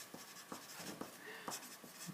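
Pen writing notes by hand on paper, a steady run of short scratchy strokes with regular pauses roughly every half second, close and quiet, no talking.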